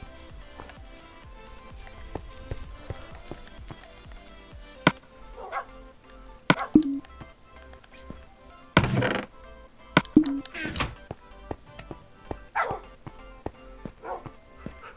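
A dog barks in Minecraft, several short sharp yips scattered among blocky in-game clicks and footstep-like taps, with louder bursts around the middle and a voice speaking at times.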